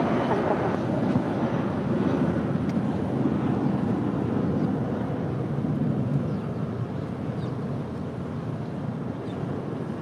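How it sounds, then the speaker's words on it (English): A FedEx Airbus A300 jet departing LAX, a broad, steady, distant roar of engines that fades slightly over ten seconds under faint wind noise. "We do have a FedEx Airbus A300 heading to Memphis."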